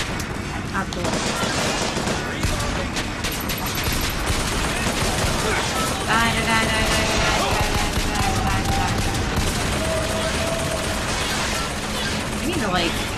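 Sustained, dense gunfire from the shooter game Bioshock Infinite, with volleys of shots overlapping into a loud, continuous barrage and metallic clanks running throughout.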